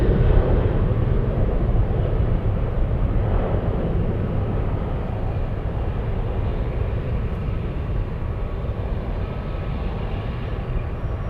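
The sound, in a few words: aircraft taking off at Anchorage airport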